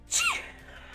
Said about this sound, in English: Did you for real just clip me sneezing?